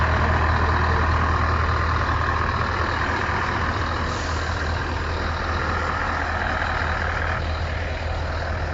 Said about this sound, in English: That's a proper lorry, that is.